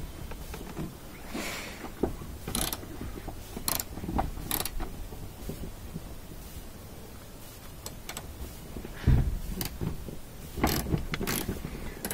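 Ratchet with an extension working a 12 mm bolt under the cowling of a Prius during a hybrid battery repair, giving quiet, irregular clicks and creaks of the pawl with scattered louder knocks.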